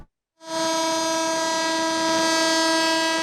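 A passenger train's long, loud horn blast starts suddenly after a brief silence and holds steady as the train runs, with no voices.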